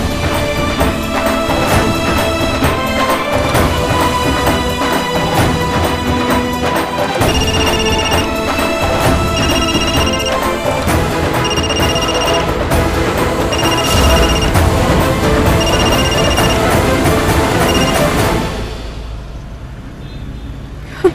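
A telephone rings in a repeating pattern of bright, evenly spaced bursts over steady background music, with the ringing continuing for several seconds before the scene fades to quiet.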